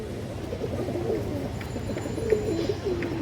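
A pigeon of an old-line kajla gear breed with a boot beak, currently moulting, gives soft low coos under steady background hum, a few short calls rising near the end.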